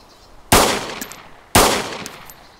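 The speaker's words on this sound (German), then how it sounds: "Schüsse?" Two loud, sharp gunshots ring out about a second apart from the DayZ Standalone video game at an airfield, each with a short echoing decay and no speech.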